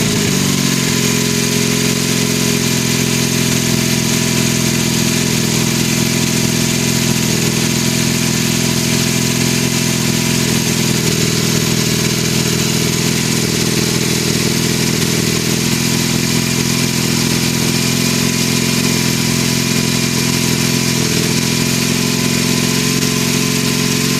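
A 1974 Kawasaki KZ400 motorcycle engine idles on half choke in warm weather, a loud, close, steady mid-pitched rumble that holds evenly and never revs.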